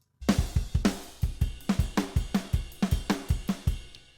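A quick, evenly driven MIDI drum groove played at 160 BPM instead of 120, with steady kick and snare hits and bright cymbal strokes, close and clear, rushing along at a brisk tempo.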